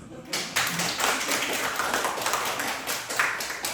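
Congregation applause at a Sunday church worship service, a dense wash of clapping from many hands that holds steady and fairly loud throughout, with no speech over it.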